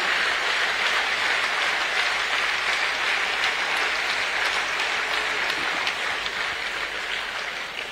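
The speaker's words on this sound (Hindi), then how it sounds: "अभिव्यक्ति दें, जोरदार तालियों के माध्यम से।" An audience at a Jaipur government ceremony, where the Rajasthan Chief Minister hands out appointment letters, gives loud, sustained applause. It fills the room evenly for about eight seconds and fades slightly at the end.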